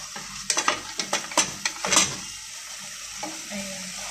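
Meat for tinolang alogbati sautéing in a pan, a soft sizzle under a quick run of sharp clinks and scrapes from stirring, then a quieter simmer, with no talking.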